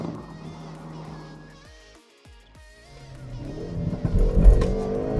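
A Hyundai i30 N Fastback with a 275-horsepower 2-litre engine in performance trim drives on the road. The engine drones, drops away during gear changes, then surges back loud and rising under hard acceleration.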